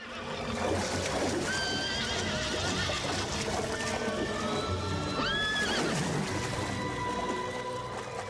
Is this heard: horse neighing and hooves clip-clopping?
yes